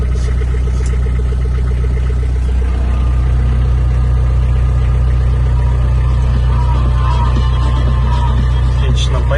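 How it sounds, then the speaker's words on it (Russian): Mitsubishi MT251 four-cylinder mini tractor with cab, its engine cranking to life and settling into a steady, loud low idle that drones on with no talk. "Запустим трактор."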